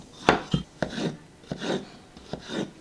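Knife strokes cutting vegetables such as potato, radish, green onion and zucchini on a board, about six separate close chops at an uneven pace, each followed by a short scraping rasp.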